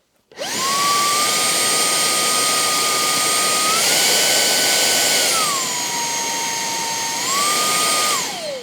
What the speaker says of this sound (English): it will increase or decrease the suction of the vacuum.